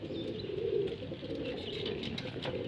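Taiwan pigeons coo softly while being fed, a low murmuring coo that recurs over a steady background hum, with a few faint higher chirps scattered through and no voices.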